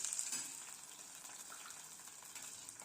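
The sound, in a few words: green chillies and cumin sizzling in hot oil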